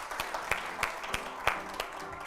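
Light applause from a small audience, sparse and fairly soft, with individual claps standing out in an uneven rhythm of roughly six sharp beats.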